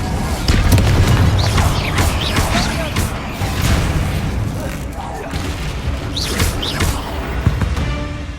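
The Incendio fire spell in Hogwarts Legacy bursts with loud, booming whooshes and crackling blasts, layered over busy game effects and overlapping voices.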